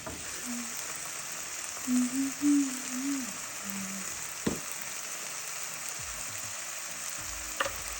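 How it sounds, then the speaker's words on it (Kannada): Diced potatoes with onion, asafoetida, salt and turmeric fry in hot oil for an okra-potato dish, a steady close sizzle with a few spoon scrapes and clicks against the pan, no talking. "ಆಮೇಲೆ ಹೆಚ್ಚಿರೋ ಆಲೂಗಡ್ಡೆ, ಹಿಂಗು, ಉಪ್ಪು, ಅರಿಶಿನ ಪುಡಿ ಹಾಕಿ ಮಿಕ್ಸ್ ಮಾಡ್ಕೋಬೇಕು"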